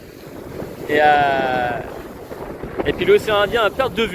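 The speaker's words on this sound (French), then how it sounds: "Bon, il y a du vent" Wind buffets a boat off the turquoise coast of Réunion in the Indian Ocean, a steady broadband rush under a voice and brief chatter.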